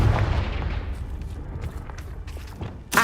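In Hogwarts Legacy, a Confringo blasting spell goes off as a loud, sharp burst. Crackling echoes follow, then a final hard hit at the end.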